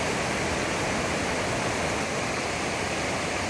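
Rapids on the Baptism River rush in a steady, broadband roar of whitewater, loud and close, with no voices heard over it.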